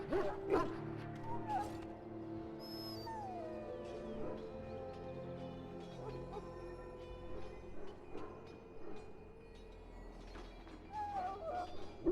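A dog in Dragon Age: Origins whimpers and yips in short, pitched whines scattered across the stretch, with occasional soft barks at moderate distance amid a low, steady ambient hum.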